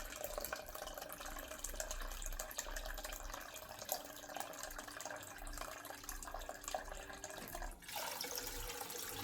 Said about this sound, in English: now it's filling back in chlorine dosing tank and in distilled water